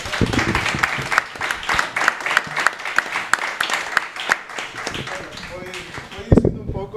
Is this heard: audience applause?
yes